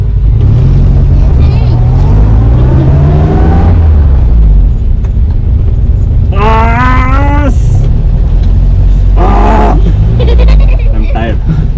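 A 1991 Premier Padmini petrol car runs in first gear, its low engine rumble steady underneath as a person talks loudly over it in several bursts.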